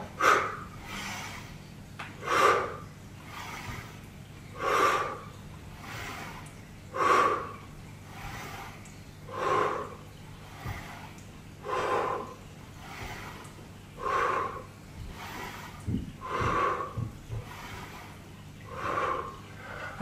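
Heavy rhythmic breathing during a squat workout, loud exhales and inhales repeating about every two and a half seconds across many repetitions, close and alone.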